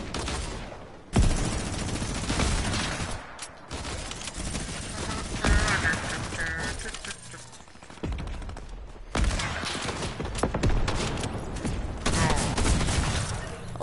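Gunfire in the video game Fortnite, with dense bursts of rapid shots and heavy volleys in long loud stretches broken by brief pauses, plus some mechanical clatter.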